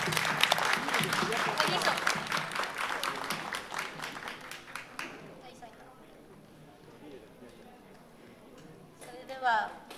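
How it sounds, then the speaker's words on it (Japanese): Audience applause at a live idol music event, Fes 2022, dense clapping lasting about five seconds and then fading into quiet murmur, with brief voices near the end. "大きな拍手をよろしくお願いいたします"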